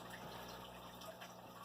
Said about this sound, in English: I'm just letting it drain water